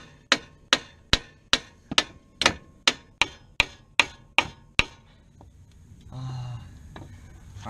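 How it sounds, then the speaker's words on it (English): About a dozen sharp metal hammer blows strike a Mazdaspeed 3's suspension strut in a steady rhythm to knock it loose, loud and close, then give way to a low clattering rumble. "We're gonna have to hit that till it comes off, and then we can disattach this strut."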